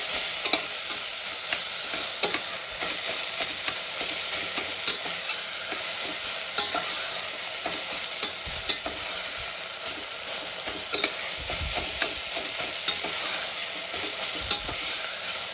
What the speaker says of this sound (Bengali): পেঁয়াজটা আমি বেশ সুন্দর করে ভেজে নেব।